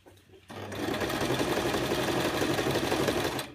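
A sewing machine stitches a fabric sensory maze cuff, starting after a short pause and then running in a steady, fast, close mechanical whir for about three seconds with no talk.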